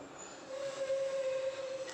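A pressure cooker cooking rice lets out a single sustained whistle, a steady piercing tone that rises in loudness and holds.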